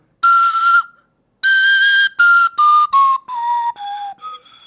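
A flute-like whistle with random notes rather than a standard key, played loud and close as a series of clear, separate tones, a long one, then a held note, then shorter notes falling in pitch, with no talking.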